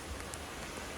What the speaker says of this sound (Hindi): क्योंकि बारिश काफ़ी तेज़ है